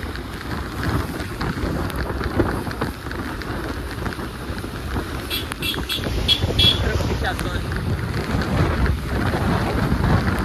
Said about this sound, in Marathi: पाऊस खूप चालू आहे